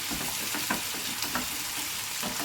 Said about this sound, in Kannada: ಕ್ಯಾಪ್ಸಿಕಮ್ಮು ಟೊಮೆಟೊ ಈ ರೀತಿ ನೀಟಾಗಿ ಫ್ರೈ ಮಾಡ್ಕೋಬೇಕು